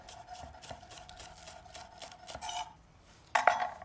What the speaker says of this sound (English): so that's all the chopping done